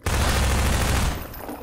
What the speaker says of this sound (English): Accidentally fired a grenade launcher